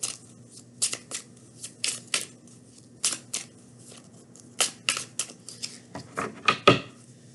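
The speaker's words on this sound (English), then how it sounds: "now we're gonna get three cards from the twin flame messages over here." Tarot cards being shuffled by hand, a run of crisp riffling bursts and soft slaps in an irregular rhythm, close and clear against a faint steady hum.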